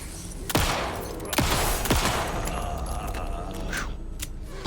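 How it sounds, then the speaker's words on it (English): Gunfire in the video game Alan Wake 2, three sharp loud shots spaced about a second apart, each with a booming decaying tail over a low ambient background, no talk. "It was a waste of 2 shots"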